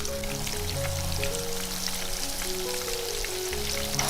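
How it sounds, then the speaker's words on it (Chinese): Chaoshan-style shrimp cakes fry in moderately hot oil over low heat, giving a soft, steady crackling sizzle throughout, with faint sustained tones underneath. "油温3-4成热的时候放下来炸，全程火要小一点"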